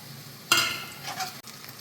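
Spices frying in a pan, among them cumin, fennel, three cloves and a small piece of cinnamon: quiet hiss, then a sudden louder sizzle with some stirring scrapes, close by.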